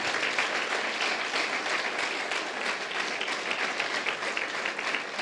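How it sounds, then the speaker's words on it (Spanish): A church congregation applauds steadily and loudly, a dense continuous wash of hand claps at close range that holds at an even level throughout, with no voices standing out. "Habrá alguien que diga amén y le dé un fuerte aplauso al Señor."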